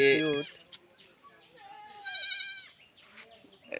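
A male goat kid about twenty days old bleats in short, high, wavering cries, one at the start and a longer one later, close by with quiet background.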